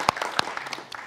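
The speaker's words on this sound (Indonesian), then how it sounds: "Tepuk tangan dong untuk pemerintah kota Yogyakarta." A small studio audience at a Yogyakarta talk show claps briefly, a few sharp separate claps close by, thinning out quickly.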